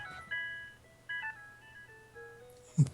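A phone rings with a string of electronic melodic tones that step downward over a few seconds, quiet beneath a low background hum, and end in a brief louder thump.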